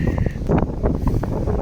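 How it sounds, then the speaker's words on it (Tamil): Brief gusty wind buffeting a microphone outdoors, a loud, low rumbling blast with uneven pulses and no clear speech. "ஏதோ காற்று முதல் அடிச்சிச்சு"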